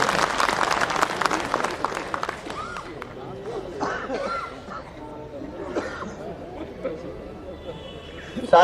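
Applause from an audience at a political speech in India, loudest in the first few seconds and then thinning into scattered clapping, with murmuring and chatter from the crowd throughout.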